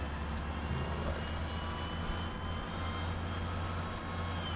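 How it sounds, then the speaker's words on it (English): A tractor in Farming Simulator 17 labours under a heavy load, its engine giving a steady, loud, low drone that holds without a break. "The heavy load, it's sapped all the energy out of the tractor here."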